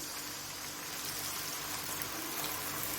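Water pouring steadily into a pan of fried masala for beef masala kabab gravy, a continuous close splashing gush with no talking.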